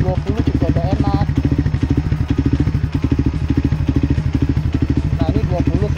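A Kuda Juken 5 motorcycle engine runs during remote timing adjustment, giving a steady, rapid, loud mechanical beat close to the microphone, with someone talking over it.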